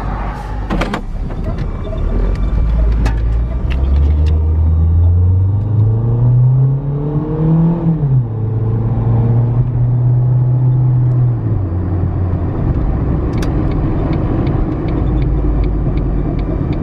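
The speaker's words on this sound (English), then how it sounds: "I'm not seeing any real breaks in the traffic to let me get back out" Steady road traffic passing close by on a US state road, a continuous loud car engine rumble with a vehicle sweeping past mid-way and engine tone rising and falling, no talk.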